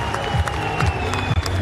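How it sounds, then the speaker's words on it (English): Arena crowd applauding and cheering at the close of a Welsh Area lightweight title boxing bout, a steady dense wash of clapping with scattered shouts, loud and continuous throughout. "Joe Cordina on his feet, applauding both men."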